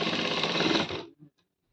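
A sewing machine runs a straight stitch while attaching a pocket, a steady close whir lasting about a second before stopping, followed by a short soft knock.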